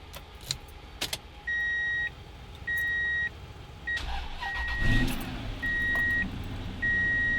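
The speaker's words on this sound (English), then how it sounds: "then we're gonna try starting this vehicle" A car with a dead battery being jump-started: repeated steady electronic warning chimes in an even rhythm, then a brief cranking rush as the engine catches, with the chimes continuing afterward at close range.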